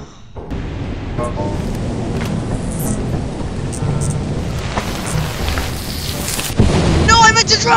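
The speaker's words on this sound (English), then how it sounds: "Chris, I got struck by lightning" Thunder from a lightning strike in the video game Lethal Company rolls as a steady, rain-like roar with a sharper, louder crack near the end, mixed with other in-game sounds.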